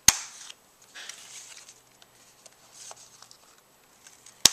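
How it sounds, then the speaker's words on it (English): A Fiskars corner punch rounds off paper edges, making two sharp, crisp clicks at the start and end, separated by soft paper rustling and handling. "first thing I'm going to do is round off my edges"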